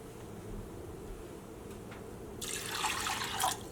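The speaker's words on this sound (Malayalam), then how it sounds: "ഇതിലേക്ക് 1/4 ഗ്ലാസ് വെള്ളം ചേർക്കാം." A quarter glass of water splashes into a pot for vermicelli payasam near the end, following a low, steady background hum; a brief, close pour with no talking.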